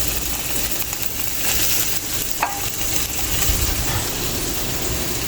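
Onions dropped into hot oil in a pot for curry chicken give a steady, broad sizzle and frying hiss throughout, with a brief clink of a utensil midway and low stirring noises beneath; no talking.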